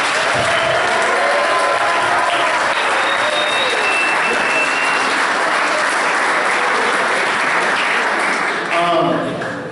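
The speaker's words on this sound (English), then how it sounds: "a round of applause to the JV for winning the championship" Banquet audience at a high school awards night applauds the JV team for its championship, a loud, dense wash of clapping holding steady for nearly ten seconds before easing at the end, with faint voices and whoops mixed in.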